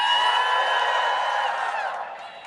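A large crowd at Howard University in Washington, D.C. cheers and whoops in a sustained roar that slowly fades toward the end.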